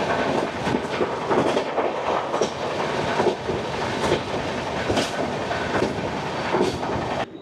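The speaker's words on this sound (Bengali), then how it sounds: "আমাদের ট্রেন ছেড়ে দিল বালেশ্বর স্টেশন" A passenger train pulls away from Balasore station in Odisha with a steady, rhythmic clickety-clack of wheels over rail joints and a continuous rolling rumble close by, with no talk.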